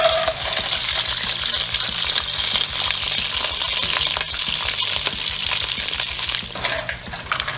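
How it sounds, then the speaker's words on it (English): Mussels and clams tumble into a pan of hot oil with garlic and pepper, setting off a steady, loud sizzle with shell clatter and stirring that runs continuously throughout. "now it's time to move the mussels and the clams inside this"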